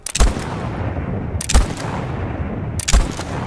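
Three sharp, loud gunshots crack in the game Voidtrain, spaced about 1.4 seconds apart, each with a short booming tail over a low ambient hum.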